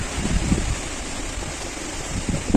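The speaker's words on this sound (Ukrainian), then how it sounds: "Зривається вітер." Gusty wind picking up ahead of an approaching thunderstorm roars steadily, buffeting the microphone with low rumbling bursts that swell near the end.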